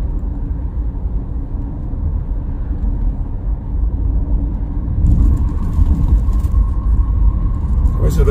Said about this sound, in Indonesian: Kendaraan masih cukup ramai.